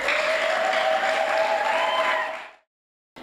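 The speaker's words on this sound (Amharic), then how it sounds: "እልልታና ጭብጨባ።" A crowd applauds loudly while a high, sustained trilling ululation rings above the clapping, both cutting off abruptly.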